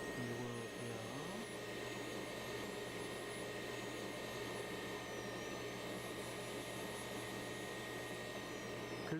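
A dental polishing wheel runs on a sintered zirconia crown, giving a constant high whine with a steady hum underneath, close and unbroken for the whole stretch.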